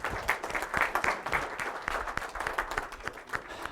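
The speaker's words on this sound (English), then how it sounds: "Round of applause" Lively audience applause in a gathering hall, many hands clapping at once in a busy, continuous patter, close and fairly loud from start to finish with no talking over it.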